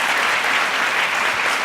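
An audience applauds at a conversation event with an ambassador. The clapping is dense, loud and continuous throughout.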